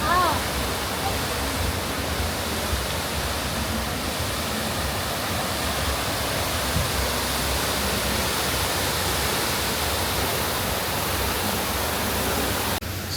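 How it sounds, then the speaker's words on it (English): Waterfalls outside the Wynn hotel on the Las Vegas Strip give off a loud, steady broadband rush of falling water that fills the whole scene without a break. "Waterfalls are really cool outside the Wynn."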